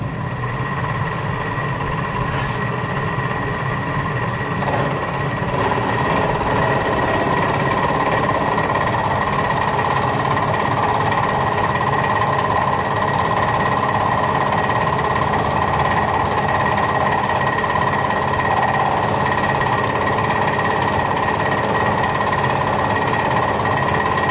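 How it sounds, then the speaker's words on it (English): Metal-cutting machine taking a facing cut across a metal part while making a drill press counterweight, a steady loud grinding drone with a constant whine running unbroken throughout, no talk. "We're going to make a cut across the face here."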